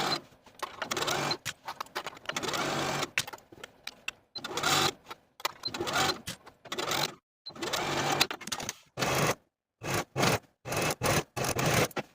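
Sewing machine stitching a sleeve into a woman's top, running in quick whirring bursts of rapid needle clatter broken by short pauses, close and clear with no voices.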